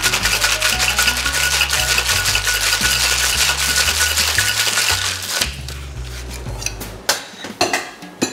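A cocktail with cinnamon syrup rattles hard with ice in a shaker, loud and continuous over background music for about five seconds. A few scattered clinks and knocks follow after the shaking stops.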